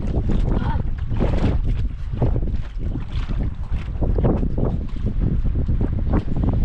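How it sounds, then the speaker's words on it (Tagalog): Strong sea wind buffets the microphone in a steady, loud roar with gusting surges, heard aboard a boat out on the water, with no clear talk. "Grabe, hangin."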